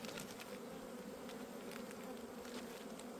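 Honey bees at a hive buzz in a continuous dense drone, close and steady, with no voices.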